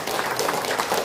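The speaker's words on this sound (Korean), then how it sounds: "박수 한번 드리겠습니다." A seminar audience gives a brief round of applause at a gathering, a quick, moderately loud burst of clapping lasting about a second.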